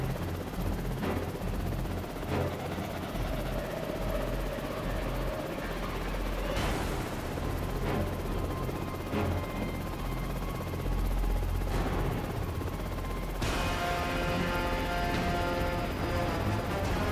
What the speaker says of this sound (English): So you're not even really supposed to use a helicopter for this mission?